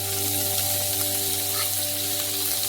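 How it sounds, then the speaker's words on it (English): Onion frying in olive oil in a frying pan, a continuous close hissing sizzle with a steady background hum, no talking. "and fry the onion"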